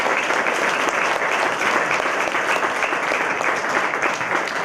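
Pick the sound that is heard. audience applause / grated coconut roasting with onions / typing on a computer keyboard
audience applause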